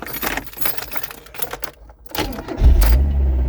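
An old van is started using the choke and ignition: keys jangle and clatter, then the engine catches with a loud, low rumble and keeps running.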